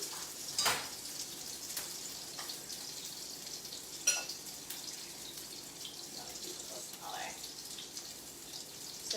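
General Tso's meatballs cook in a pan with a soft, continuous sizzle and occasional faint clinks, fairly quiet and steady throughout.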